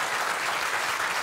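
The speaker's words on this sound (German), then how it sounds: "Hannelore, das Publikum ist am Toben" Studio audience at a cooking show applauds in a loud, dense, continuous burst with no break.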